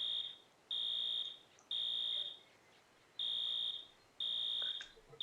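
A fire alarm sounds in the firefighting game 911: First Responders, giving four loud, evenly spaced electronic beeps at a high pitch with short pauses between them and quiet background otherwise.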